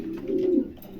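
A single low, soft coo from a Maltese pigeon, one of a pair of young females, lasting under a second against faint background hiss, with no talking.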